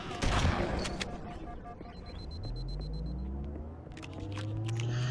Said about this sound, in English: Shotgun just doing work against the Covenant.